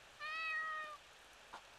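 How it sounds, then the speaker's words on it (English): A single cat meows in the horror video game Ao Oni: one clear, drawn-out tonal cry, fairly faint, followed by a soft tap after a short pause. "Kitty cat."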